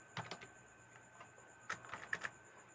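Code typed on a computer keyboard: a few scattered soft keystrokes, then a short cluster of taps, quiet and close against a faint steady hiss.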